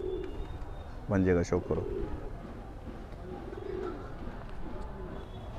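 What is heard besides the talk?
Motiwal golden pigeon cooing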